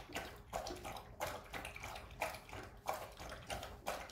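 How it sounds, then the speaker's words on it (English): A dog laps water from a bowl nearby, a soft wet rhythmic lapping repeating roughly every half second, quiet and alone. "my dog is drinking water"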